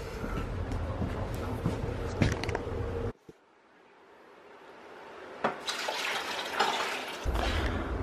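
Water poured into a Christmas tree stand, a loud splashing, running pour that stops abruptly, leaves a quiet pause, then resumes with another heavy flow; no talk.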